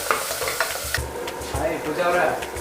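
Chopped beans frying in a pan while being stirred, a steady sizzle broken by repeated scraping and clinking strokes of the spoon, close and clear with no talking.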